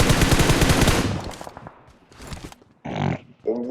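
Video game gunfire, a loud dense burst of rapid shots for about a second, then fainter scattered shots and short bursts fading in and out.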